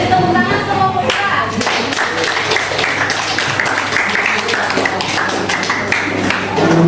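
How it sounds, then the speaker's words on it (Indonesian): A classroom audience of students applauds with dense, steady hand clapping sustained throughout, close and fairly loud. "Beri tepuk tangan sama pemuda."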